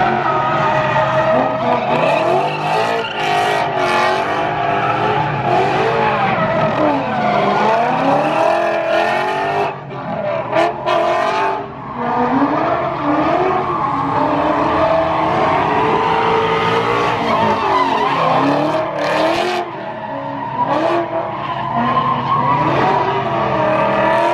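NASCAR race cars at the Pennzoil 400, loud continuous engine roar with tyres squealing and skidding, the pitch sweeping up and down as cars pass close by.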